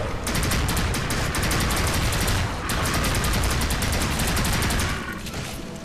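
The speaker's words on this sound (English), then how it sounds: "stop shooting at me" Enemy gunfire in the shooter game NecroVisioN, dense rapid crackling volleys filling the whole stretch, loud and continuous with a brief dip midway.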